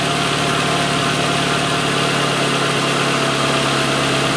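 A 2006 Renault Logan 1.6 8V engine idling loudly and close, slightly misfiring: a steady low rumble with a slightly uneven, stumbling beat.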